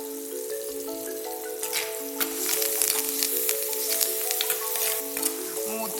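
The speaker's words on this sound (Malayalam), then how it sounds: "2 തണ്ട് വേപ്പിൻ്റെ ഇല ചേർത്ത് നമുക്ക് വഴറ്റാം." Ginger, green chili, shallots and curry leaves sautéing in a pan for a Kerala fish curry, with a steady close crackle and sizzle of hot oil, occasional stirring scrapes and a faint melodic tone in the background.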